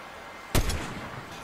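A single loud sniper rifle shot in the video game Fortnite, a sharp close blast with a short trailing decay, then quiet game ambience.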